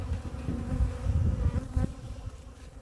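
Honey bees buzzing at an open beehive, a close, continuous droning hum with no voices.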